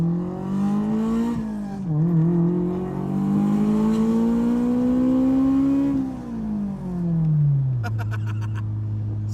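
A Honda AP1 S2000 engine revs up and down, its strong harmonic tone climbing, dipping and climbing again, then settling to a steadier drone with a faint whir and mechanical ticking near the end.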